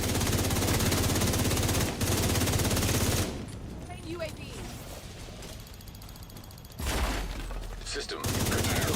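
Sustained automatic gunfire in a video game, a dense loud rattle of rapid shots that breaks off briefly, drops away under quieter game sounds, then resumes with another burst.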